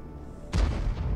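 Artillery guns fire in the World War II strategy game Order of War: a single heavy boom hits suddenly after a quiet moment, and its rumble fills the rest of the short moment.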